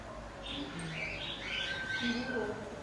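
Several birds squawk and chirp in short overlapping bursts nearby at Zoo Negara in Kuala Lumpur, over a low background rumble and faint murmuring.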